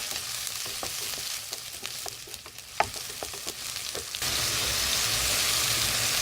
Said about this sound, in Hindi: टमाटर को नरम होने तक पकाएंगे।